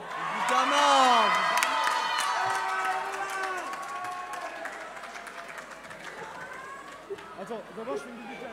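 A concert crowd at the 2022 Sidaction benefit roars, cheers and whoops loudly for a singer. Shrill calls rise above dense, sustained crowd noise that gradually eases toward the end.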